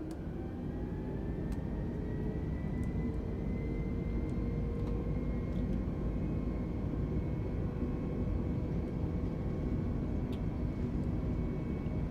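Airbus A320neo engines spool up for takeoff in Microsoft Flight Simulator 2020, a continuous low rumble with faint rising whine tones, steady and unbroken throughout.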